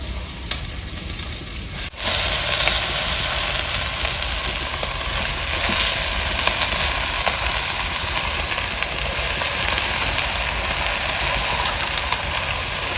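Fresh leafy greens are tossed into a clay pot of fried onions, and the pot bursts into a loud, dense, continuous sizzle after a brief thump. Steady hissing follows with no talk.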